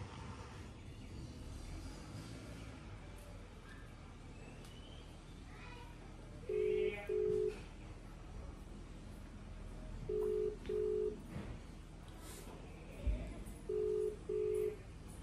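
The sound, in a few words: phone video call ringing tone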